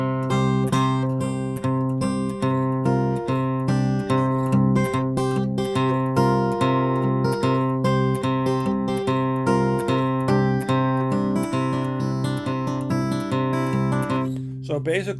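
Fingerstyle acoustic guitar plays a section of a blues piece, with sustained bass notes under a busy melody of picked and fretted strings, close and steady throughout.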